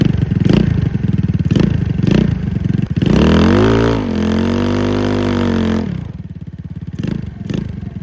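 A 150cc scooter engine with an aftermarket exhaust kit runs close by, a loud putter punctuated by throttle blips. A sustained rev swells and falls back before the engine returns to a choppy idle.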